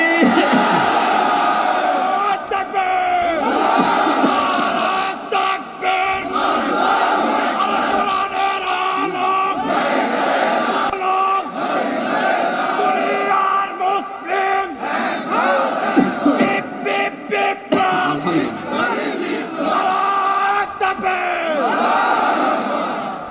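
Large crowd at an outdoor religious gathering in Kushtia, Bangladesh, chanting Allahu Akbar in loud, repeated rhythmic shouts that rise and fall over about twenty seconds, answering a takbir call.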